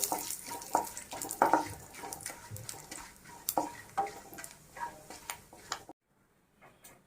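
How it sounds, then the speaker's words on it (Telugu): Cumin seeds and chana dal frying in a pan, crackling and popping close up with irregular ticks and scraping stirs, the sizzle cutting off abruptly into near silence at the end. "వీటన్నిటిని ఒకసారి ఫ్రై చేసుకోవాలండి."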